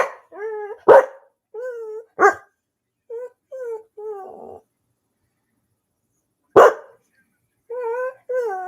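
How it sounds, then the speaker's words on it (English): A dog barks and whimpers in short separate bursts close by, with several yelps spaced over a few seconds and a pause in the middle before more barking, and no one talks. "This is my dog Chico I got a while back."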